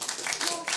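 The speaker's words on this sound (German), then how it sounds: "bitte nochmal einen ganz, ganz großen Applaus für all unsere Künstler" Audience applause for the performers at a German ballroom variety show, a short burst of dense clapping filling the room, fairly loud and close, with brief swells.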